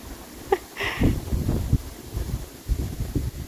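Chilly wind buffets the microphone in low rumbling gusts, with a few brief rustles and knocks outdoors in a garden.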